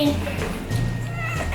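A house cat meows indoors, brief and close, while a person talks over it.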